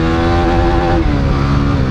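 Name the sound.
stock Yamaha Sniper 155 and Winner X 150 motorcycles racing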